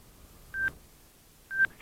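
A 2018 Zero SR electric motorcycle gives its phone connection tone: two short, clean electronic beeps about a second apart, quiet and isolated.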